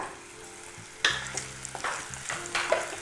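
Spices frying and sizzling in a pan while being stirred, with a steady hiss and scraping, clattering stir strokes up close, no talking.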